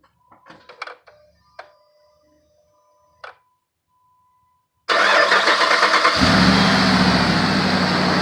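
A 2007 Dodge Ram with a 5.7L engine, just after a cam sensor replacement, cranks briefly and catches, then settles into a loud, steady idle close to the microphone after some faint handling noises.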